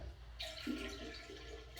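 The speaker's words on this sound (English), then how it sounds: "I'm going to empty it in the toilet" Water from a bedside container poured into a toilet bowl during bladder care, a short splashing pour that builds midway and trails off, fairly faint and close.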